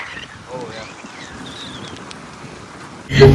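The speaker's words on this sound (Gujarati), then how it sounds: "કેવો વરસાદ છે બી?" Rain falls during a group outing to eat: a soft, continuous patter sits under several people talking, then swells into a sudden loud burst of noise at the very end.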